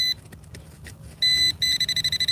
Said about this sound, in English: the pinpointer making a bunch of noise